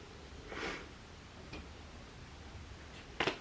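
A person sniffles a few times in a quiet room, with a soft sniff early, a fainter one in the middle and a sharper double sniff near the end, all close and subdued.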